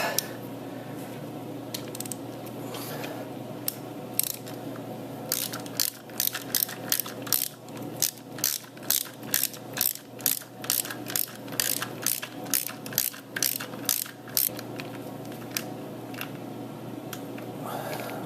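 A hand ratchet tightens a part on a 2004 Harley-Davidson Dyna Custom motorcycle, giving close, loud bursts of rapid rhythmic clicking that speed up into a steady series of strokes after a few slower pulls.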